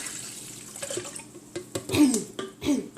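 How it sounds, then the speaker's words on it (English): Water pouring into a blender for homemade almond milk, splashing and gurgling in short uneven bursts, close and moderately loud, with drips and sloshing between pours. "put about 2 cups of water into your blender"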